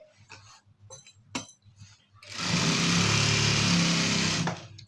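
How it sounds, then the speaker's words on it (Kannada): Sewing machine stitching along a sari, a steady loud motor whir and rapid needle chatter running continuously for about two and a half seconds after a few light clicks and handling taps. "ಈ ಥರ ಫ್ಲ್ಯಾಟಾಗಿ ಮೂವ್ ಮಾಡ್ಕೋತಾ ಸ್ಟಿಚ್ ಮಾಡಬೇಕು ನಿಧಾನವಾಗಿ"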